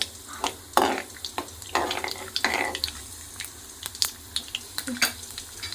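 Peanuts frying in a pan and being stirred, with a soft continuous sizzle broken by sharp scraping and clinking strokes of a spoon against metal, close and irregular.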